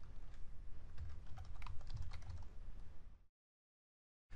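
Steady rapid typing on a computer keyboard for about three seconds, dense and fairly close, then abrupt silence; no talking.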